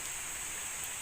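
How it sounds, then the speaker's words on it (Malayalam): Steady rain with wind in Idukki, Kerala, a dense continuous hiss of falling drops with a faint high whine above, close and unbroken throughout. "നല്ല കാറ്റുണ്ട്, മഴയാണ്, നല്ല തണുപ്പാണ്"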